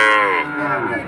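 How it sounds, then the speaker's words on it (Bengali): A Friesian bull calf at a cattle market in Betaga gives one loud, close moo that slides in pitch and trails off after about a second. "নিখুঁত গরু, নিখুঁত একটা এড়ে গরু"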